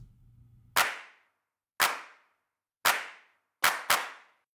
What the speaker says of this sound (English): There's also a clap that's running pretty much throughout this entire track